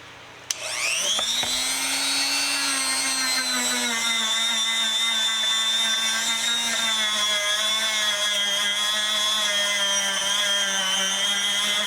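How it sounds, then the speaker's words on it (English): A power tool fitted with a Scotch-Brite wheel polishes a vintage brass lawn sprinkler, spinning up after a brief start and then holding a loud, steady high-pitched whine close by, with the pitch drifting slightly as it bears on the metal. "I'm going to go over it with some Scotch-Brite wheels"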